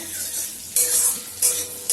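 Vegetables fry in a pan with a continuous sizzle, broken by three sharp scraping stirs of a utensil against the metal, close and fairly loud.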